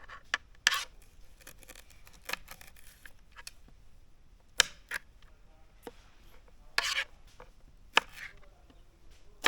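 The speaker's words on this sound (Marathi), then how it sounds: "तर अशा प्रकारे बाकीची केळी पण सोलून घेऊया आपण" Bananas are peeled by hand for banana chips, giving sparse, sharp scraping and tearing sounds at irregular intervals, close and fairly quiet against a near-silent background.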